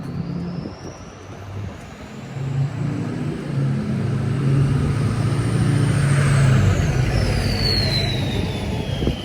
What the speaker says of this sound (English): you can hear the turbo in that truck. That truck had a whistle.